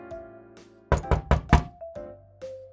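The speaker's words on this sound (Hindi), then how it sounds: "एक दिन चिड़िया अपने घर में बैठी थी कि दरवाजे पर दस्तक हुई।" A cartoon knock on a door: four quick, firm raps close up, over soft sustained musical tones.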